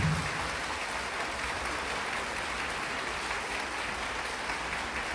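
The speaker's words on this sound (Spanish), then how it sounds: "¡Fuertes aplausos al Señor!" A church congregation claps in sustained, dense applause that holds at an even level throughout, with no clear speech over it.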